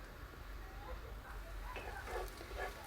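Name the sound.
food frying in a pot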